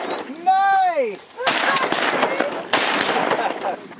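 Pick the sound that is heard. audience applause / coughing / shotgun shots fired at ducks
shotgun shots fired at ducks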